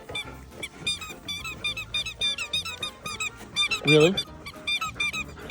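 A dog's squeaky toy squeaks repeatedly in quick, uneven bursts throughout, with louder squeaks near the four-second mark and people talking over the squeaking.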